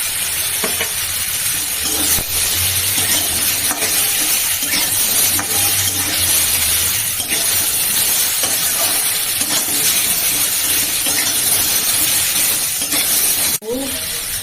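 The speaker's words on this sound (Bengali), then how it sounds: "হলুদ চাটনি একটু ভাজি" Turmeric chutney fries in a pan with a loud, continuous sizzle and hiss up close, along with occasional scraping as it is stirred and a sharp clatter near the end.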